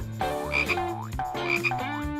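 A frog croaks in two loud, close, rhythmic bursts of deep, buzzy calls with no voices over them.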